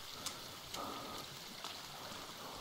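Rain falls steadily in The Forest video game, a soft continuous wash of pattering drops with a few brief sharper taps, quiet and even throughout with no voices.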